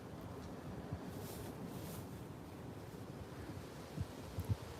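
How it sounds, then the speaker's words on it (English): Strong 40-50 mph wind gusts buffet a camera microphone outdoors at Potter Heigham during floods and storms, producing a constant low, rough rumble with occasional louder thumps. "it's going to be noisy on the camera, nothing I can do about it. Because obviously we've got, 40-50 mile an hour gusts of wind."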